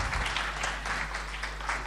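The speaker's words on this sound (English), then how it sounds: "And a round of applause, please." An audience at an award ceremony applauds as the governing board comes onto the stage, a soft, steady wash of clapping heard at some distance over a low hum.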